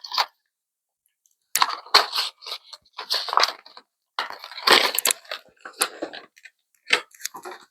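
Tough diecast military toy packaging is torn, cracked and pried open nearby in irregular bursts of crinkling and crunching, separated by short pauses.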